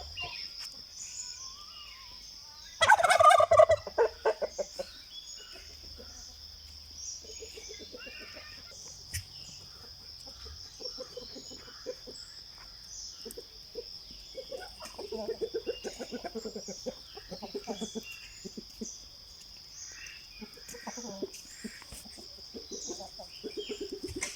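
Chickens and other poultry kept at a small resort, with faint, scattered clucks and calls against a steady insect-like hum, after a brief loud burst near the start.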